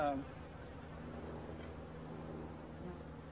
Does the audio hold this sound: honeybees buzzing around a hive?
yes